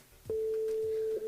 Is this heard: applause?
no